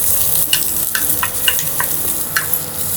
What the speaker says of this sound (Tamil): இது நல்லெண்ணெயில் கொஞ்சம் அந்த ஈரப்பதம்லாம் போகிற வரைக்கும் வறுத்துடலாம்